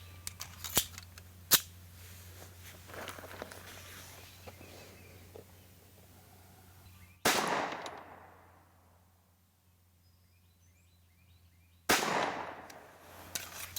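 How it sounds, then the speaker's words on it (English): Rounds being loaded into a SAR USA K12 Sport pistol magazine: a few faint clicks early on, then two sharp metallic snaps several seconds apart, each ringing out and fading, in an otherwise quiet room. "I'm gonna go ahead and load these last 2 rounds up here real quick"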